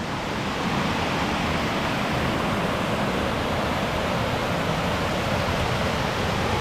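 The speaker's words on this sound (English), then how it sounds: "Looks like several mini little waterfalls going to be along the way to this next one." Steady broadband rush of several small waterfalls along a hiking trail near Cavern Falls in Saluda, North Carolina, a continuous close, even wash of falling water with no voices.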